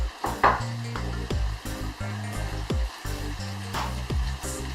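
Tomatoes tipped into a hot pan of fish for a Jamaican rundown, turned up to high heat, give a steady close sizzle and frying crackle under stirring, with pan and utensil clinks and scrapes over a low background hum.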